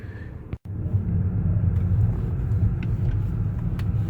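A rebuilt BMW E90 sedan on a test drive gives a steady low road and engine rumble from inside the car, constant and moderately loud after a brief click and dropout near the start.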